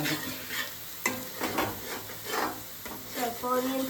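Sliced onions fry and sizzle in a pan while a spoon scrapes and stirs them in bursts, cooked before adding spices for a prawn dry roast; the kitchen sounds are close and moderately loud.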